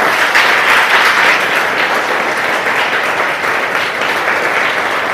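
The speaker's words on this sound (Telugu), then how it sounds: "స్టాఫ్ అందరికీ ఒకసారి క్లాప్స్ కొడతాం." Sustained audience applause for staff at a certificate ceremony for women trained in tailoring, a dense steady roar of many hands clapping throughout, loud and continuous with no clear gaps.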